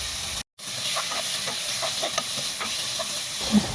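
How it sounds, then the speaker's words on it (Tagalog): Chicken sautéing in a hot pan for ginisang munggo gives a steady, loud steamy hiss with faint stirring scrapes, briefly cut off near the start, no voices. "ilagay na ang manok, igisa, hanggang sa mag-iba na yung kulay niya, tapos timplahan nyo ng patis"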